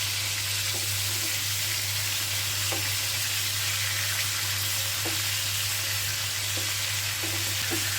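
Broiler chicken pieces fry lightly in oil on their second side for a roast, giving a steady, close sizzle throughout with a few soft stirring clicks and no talking.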